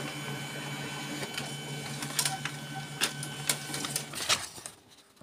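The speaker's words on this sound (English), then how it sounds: "See, it printed those three dots." A Samsung Xpress M2875FW laser printer runs wirelessly with a steady mechanical whir and a series of clicks and clacks, then winds down near the end.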